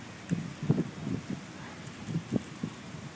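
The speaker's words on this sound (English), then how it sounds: "it is kind of windy out." Wind gusts across an old cemetery in Salem, Massachusetts, as faint low buffeting thumps against the microphone that rise and fall in irregular bursts.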